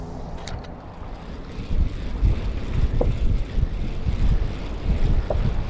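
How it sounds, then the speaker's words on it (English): Strong wind buffets the microphone beside a creek slough near a highway, a steady low rumble with gusts swelling from about two seconds on, carrying a faint watery wash beneath and no talk. "Hopefully you guys can hear me over the wind."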